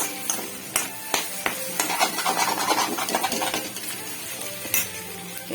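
Vegetable pieces frying in a pan, stirred with a utensil: steady sizzling under repeated sharp scraping and clinking of metal against the pan, fairly close and moderately quiet, with no talking.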